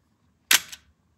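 A Bronica ETRSi film camera shutter fires once, a single crisp close mechanical snap with a brief trailing clack, in an otherwise quiet room.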